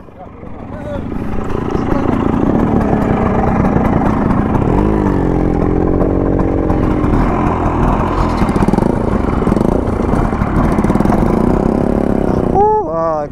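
An old LML Vespa scooter engine putters and revs up close, a buzzing two-stroke drone that rises and falls while people talk over it.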